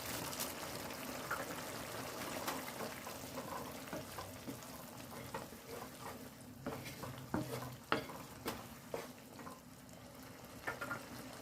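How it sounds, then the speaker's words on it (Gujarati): Spiny gourd (kantola) curry with sev cooks in a pan, giving a soft, steady sizzle with occasional stirring scrapes and clinks close by. "આ શાકને આપણે હવે 2 મિનિટ સુધી ચડવા દઈશું, એટલે સેવ અંદર પણ ચડી જાય"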